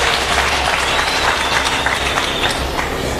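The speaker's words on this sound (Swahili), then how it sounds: "Tumpigie Mungu makofi kwa ajili ya majina hayo" Church congregation applauding during a sermon on baptism and changing names, a loud sustained wash of many hands clapping close by, without speech.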